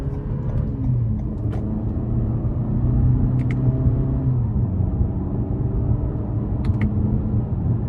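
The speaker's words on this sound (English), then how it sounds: "I'm gonna put it into the sport mode, and then we're gonna manually shift here. First gear out of this corner." A 2024 Toyota Camry XSE's four-cylinder engine pulls steadily under load in sport mode with manual shifting, a continuous interior drone with shifting harmonic tones and a few faint clicks.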